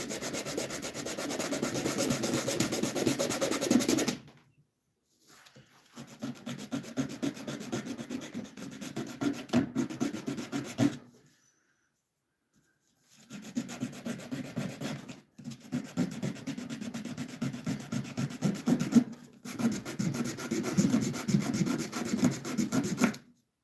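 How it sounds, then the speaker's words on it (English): Hand sanding on a piece of construction lumber in a shop, steady rough rubbing strokes in three long bursts separated by short pauses, close and fairly loud with no talking. "I'm just going to kind of sand this piece a little"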